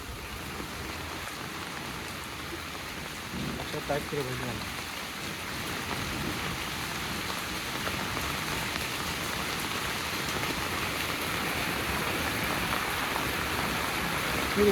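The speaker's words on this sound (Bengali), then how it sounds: "হাই রে বৃষ্টি খুবই বৃষ্টি হচ্ছে" Heavy rain falls in a steady, dense hiss that swells gradually louder across the stretch. It is fairly faint, with a few brief, muffled voices beneath it.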